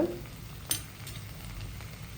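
Soya chunks and potatoes fried in a pan while being stirred, giving a steady soft sizzle with a brief scraping clink near the start, close and alone.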